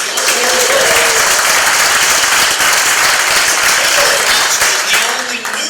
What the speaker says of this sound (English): another round of applause in here